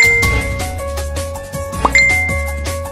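Phone message notification tones ring out in quick succession, bright chiming dings repeating over a steady musical backing, with one sharper clink near the middle; no one speaks.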